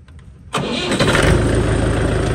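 An old tractor with a trolley attached cranks and catches, bursting into a loud, close engine roar that holds at a rough, steady idle.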